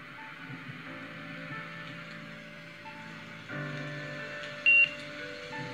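A paired Bluetooth device gives a single short electronic beep near the end, sounding over quiet, steady music playing in the background.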